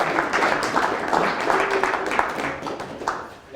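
An audience in Minersville claps for a speaker about to talk on ground squirrel management, a short, dense patter of hands at fairly close range.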